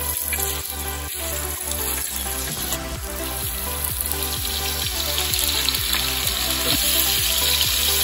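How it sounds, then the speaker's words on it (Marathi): Liver sizzles continuously in a frying pan, a dense, close crackle with a regular run of soft clicks and scrapes from the utensil, no voices. "कलेजी फ्राय झालेली आहे"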